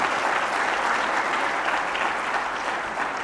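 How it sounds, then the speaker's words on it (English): Audience applause at a management and HR summit in Lahore, a steady, dense wash of many hands clapping that holds evenly for a few seconds with no voices over it. "That is an applause."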